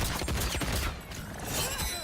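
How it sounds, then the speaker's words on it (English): Rapid gunfire attacks in the fighting game Mortal Kombat 1 at a pro tournament regional final, a dense, loud burst of shots and impacts filling the whole moment. "these high gunshots almost always get blocked"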